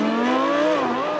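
A Lamborghini Huracán's naturally aspirated 5.2-litre V10 engine roars steadily at high revs, its pitch climbing then dipping slightly, loud and close with no talk.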